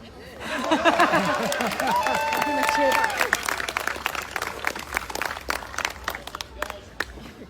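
An audience claps at a recitation of the poem Holy Willie's Prayer. A voice and light laughter come first, then scattered, fairly close clapping builds and patters on for several seconds.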